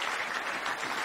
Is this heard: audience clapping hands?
yes